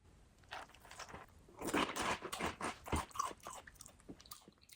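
Close, quiet crunching and chewing of Krispy Kreme glazed donut cereal with milk, a run of crisp bites and steady chewing that grows busier midway, with no talk.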